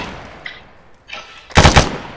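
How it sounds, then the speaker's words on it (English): Video game gunfire: two faint distant shots early, then a loud close burst of rapid shots near the end. "Someone's still shooting at us"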